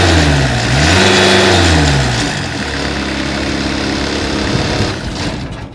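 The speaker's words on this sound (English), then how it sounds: "Engine runs excellent." The Kubota-powered engine of a 2007 Finn B70 skid-mounted right-hand-feed straw blower revs up loudly, then drops back to a steady, close, throbbing run.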